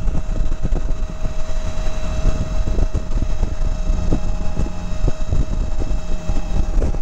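A 1983 Honda Goldwing GL1200 motorcycle running at speed, a loud, continuous engine drone with steady tonal hum layered under heavy rushing wind noise, close to the microphone and with no talking.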